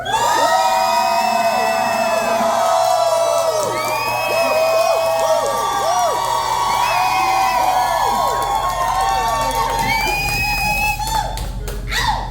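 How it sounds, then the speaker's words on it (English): A roast battle crowd at a quarter-final bout cheers, whoops and applauds loudly and continuously, close and dense, with shouted voices rising over the clapping throughout. "if you believe that Corynne the Artist won, please applaud now"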